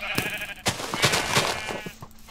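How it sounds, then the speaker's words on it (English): A sheep bleats in the video game Minecraft, giving several wavering, nasal calls in quick succession that sound close and fairly loud. "Oh, sheep."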